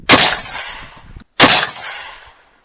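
Two loud, sharp rifle shots from a shooting test ahead of elk season, the first near the start and the second about 1.3 seconds later, each cracking close by with a decaying echo tail; no speech.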